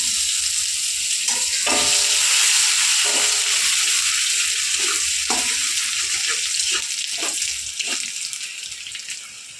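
Grated ginger sizzles in hot oil in a pan while dal is being cooked, a loud, steady frying hiss with occasional crackles and stirring scrapes.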